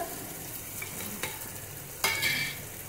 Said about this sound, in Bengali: এটা দিয়ে বেশ করে নেড়ে নেব